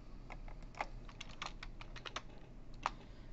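Typing on a computer keyboard while writing a small program in Notepad, a quiet, irregular patter of individual key clicks, close up and with no talk over it.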